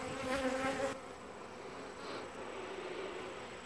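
Honey bees buzz densely around a rejected queen as she is separated from the colony and caged, a steady close insect drone that is louder for the first second and then continues more softly, with no voices.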